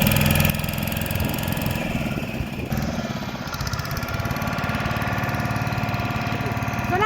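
A boat engine runs throughout a ride, a loud, close, continuous mechanical drone with a steady chugging pulse and no voices over it.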